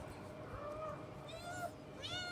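A cat meows a few times in a cat house's attic room, soft, short, rising-and-falling calls heard faintly over quiet room noise.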